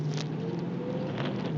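A Chevrolet Silverado's 4.8, 5.3 or 6.0 V8, fitted with a Banks cold air intake, revs steadily under throttle, a close, continuous engine drone with no talk over it.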